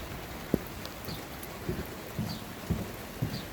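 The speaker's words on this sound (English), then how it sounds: "So it's been raining for about 2 days now." Light rain patters steadily outdoors in a December garden, with soft scattered drops and a few sharper taps against a hushed background.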